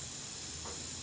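Asafoetida sizzles in hot mustard oil for a dal makhni tempering, a steady bright hiss like steam that holds evenly through the short moment, close and fairly quiet, with no talk over it.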